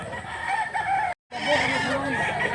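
A bullstag rooster at a cockfight in Mantalongon, Cebu, crows twice in a noisy crowd, with a brief silent gap between the calls and people talking throughout.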